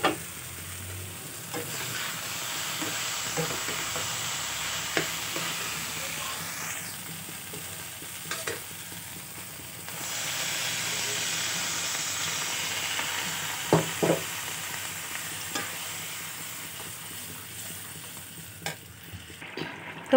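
Potatoes and soybean chunks are stirred and sautéed in a pan for a Bengali curry. A steady low sizzle runs throughout, with occasional scraping and tapping of the spatula and no talk.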